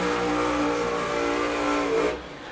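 A drag racing car launches down the strip at a US Street Nationals event, its engine roaring loud and steady with a rising pitch, then dropping away quickly near the end.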